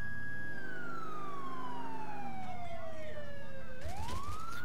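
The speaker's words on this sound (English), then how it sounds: "let's turn off our siren real quick." A police siren on an unmarked Tahoe in GTA IV gives one loud wail that slides slowly downward, then sweeps sharply back up near the end over a low engine rumble.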